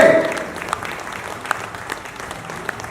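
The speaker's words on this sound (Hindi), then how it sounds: "अगर अच्छा लगा हो तो जोरदार तालियां बजाते।" Audience applause at the end of a theatre play fills the room, a dense steady clatter of many hands clapping that slowly thins out over a few seconds.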